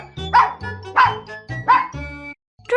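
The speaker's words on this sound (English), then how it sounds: "Dog." A dog barks three times in quick succession, close and loud, then gives a brief fourth yip after a short pause.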